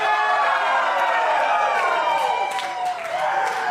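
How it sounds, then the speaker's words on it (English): Crowd at a pro wrestling show cheering and clapping for a wrestler in a continuous loud wash, with a voice talking over the noise. "And I hear you cheer for me."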